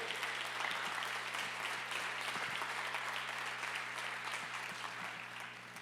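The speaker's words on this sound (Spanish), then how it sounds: "¿Le puedes dar un fuerte aplauso al Señor por eso?" A church congregation claps for the Lord during a Spanish-language sermon, a dense, steady roll of applause from many hands that fills the room and eases slightly toward the end.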